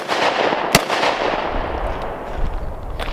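A compensated pistol fires a single loud, sharp shot over a booming outdoor rumble, and a fainter crack follows near the end.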